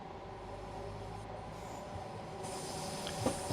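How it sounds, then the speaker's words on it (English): A train passes in the opposite direction in Train Sim World 6 on a Medway commuter route, with a steady rumbling rail roar, wheel noise and faint squealing under it, no talking. "There's another train going in the opposite direction."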